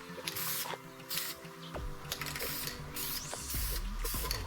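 Primer is sprayed from an aerosol can in a light, dry coat onto wheel rims, producing steady hissing bursts close up over a constant background hum.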